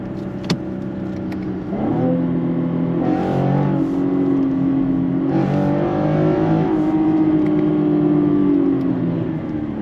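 A car with a 10-speed automatic in manual paddle-shift mode accelerates, its engine note climbing then dropping at several gear changes, sounding close and steady from inside the cabin.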